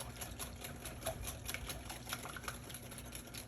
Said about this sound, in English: Now we whisk.